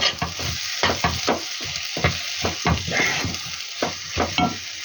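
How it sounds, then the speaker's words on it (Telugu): Potato and egg frying in a pan, with sizzling under a series of rhythmic scraping stirs, about a dozen strokes spread evenly across the stretch, close and fairly quiet with no talking. "ఎగ్గు ఫ్రై చేస్తాను"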